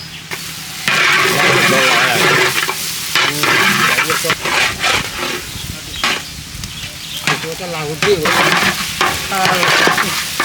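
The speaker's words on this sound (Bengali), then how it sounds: "এখন আমরা ভাতটা দিয়ে ফ্রাইটা করে নেবো" A large batch of rice stir-fried with vegetables and egg in a big pan for a 25 kg charity cook, loud continuous scraping and hissing sizzle up close, with voices talking over it.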